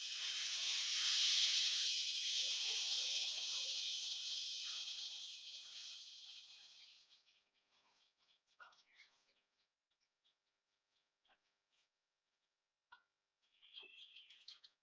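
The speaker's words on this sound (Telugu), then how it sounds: "ఇప్పుడు మరగపెట్టి ఉంచుకున్న నీళ్ళని ఇందులో పోసేద్దాం." Freshly boiled water hits hot roasted semolina (rava) in a pan for upma, giving a loud burst of sizzling steam that fades over several seconds, then a few faint crackles and light stirring taps.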